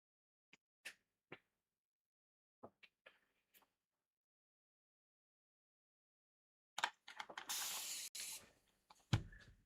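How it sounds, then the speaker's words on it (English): A spray bottle mists water onto paper while colouring: several short, sharp spritzes spaced apart, then a denser run of hissy bursts and one longer spray near the end, close and clear in an otherwise quiet room. "I keep spraying."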